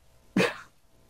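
A single short, sharp sneeze, close by, bursting out of near silence.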